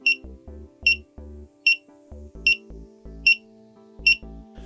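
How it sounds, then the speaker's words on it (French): A Fresh 'n Rebel smart finder tracker rings remotely, sounding a repeating series of sharp electronic beeps at an even pace, about seven chirps with short tonal blips between them, close and clear with no talk. "vous pouvez faire sonner l'appareil à distance"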